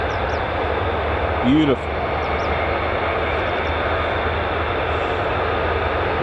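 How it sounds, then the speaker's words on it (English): F-35A conventional-takeoff fighter jet at RAF Lakenheath, a loud steady broadband engine roar filling the clip, with a brief spoken word partway through. "This is your energetic 9G pull-in CTOL variant, the F-35A."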